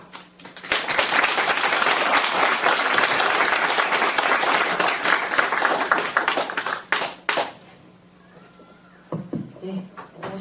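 A lecture-hall audience of students, professors and local citizens at a Thursday philosophy colloquium in Daegu breaks into loud, sustained applause to welcome a speaker. The clapping fades out after about seven seconds and is followed by a short spoken greeting.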